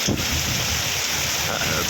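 Heavy night rain during a storm in Lakshmipur, a dense, steady roar of rainfall with wind noise close to the microphone.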